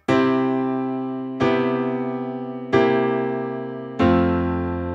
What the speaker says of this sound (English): The chord progression goes 1, 1 major 7, 1 dominant 7 to 4.